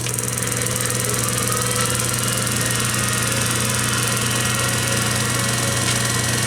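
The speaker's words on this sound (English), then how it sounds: "now the grinding spindle is spinning, and so is the work spindle." A 1920s Kwik-Way valve refacer runs with its grinding spindle and work spindle both turning, giving a steady, unbroken motor drone with a faint whine layered on top, constant in level throughout.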